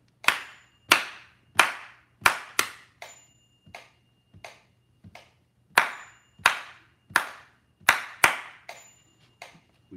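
A single pair of hands claps out a rhythm of sharp, close claps in uneven groups, some quick pairs and short runs separated by brief gaps, with no talk.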